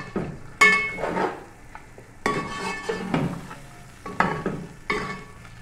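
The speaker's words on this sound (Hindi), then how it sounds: "इसकी मज़ीद 5 मिनट हमने करनी भुनाई।" Masala being stir-fried in a pan, with repeated scraping and clinking strokes of a spoon against the metal in an irregular rhythm over a soft, continuous sizzle, close and fairly loud, with no talking.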